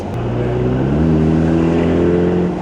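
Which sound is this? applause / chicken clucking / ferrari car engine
ferrari car engine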